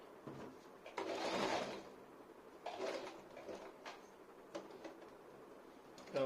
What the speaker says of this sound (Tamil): பட்டன் ஹோல் வந்து ஸ்டிச் ஆயிடுச்சு